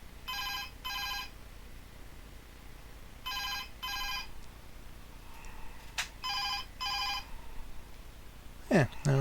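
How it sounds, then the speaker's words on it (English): DSE FP-200 telephone ringing in short paired electronic bursts, repeating three times at a moderate level, with a small clatter at the end. "It does actually ring, so that's great."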